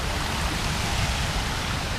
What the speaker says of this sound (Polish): Ja nie wiem, czy mnie słychać teraz, bo tam jest wodospad.